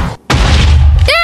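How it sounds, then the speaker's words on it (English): A cannon shot lands on a house in Minecraft: a short, loud booming blast after a brief gap, followed by a rising tonal game sound at the end, all within about a second. "They're shooting cannons at each other."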